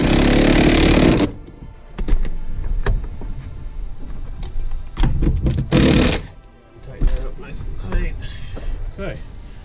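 A loud impact wrench with a chrome socket drives a car seat belt bolt in two rattling bursts, the first about a second long and the second shorter, close up, with workshop noise between.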